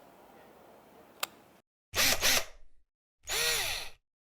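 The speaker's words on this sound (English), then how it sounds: "a drill and a stepper drill bit" Two short bursts of a power drill with a stepped drill bit whirring up and stopping, close and loud, after a quieter stretch with a single click.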